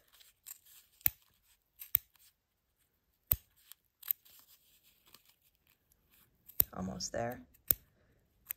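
Sharp scissors snip through fabric around a Dresden plate quilt circle, several crisp separate cuts spaced apart in a quiet room, with a brief spoken remark near the end.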